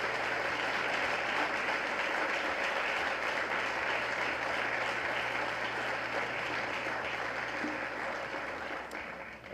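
Applause from a large ceremony audience at a Presidential Medal of Freedom event, a dense, steady roar of clapping that holds evenly for about nine seconds before tapering slightly at the end.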